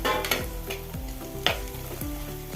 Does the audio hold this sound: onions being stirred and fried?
yes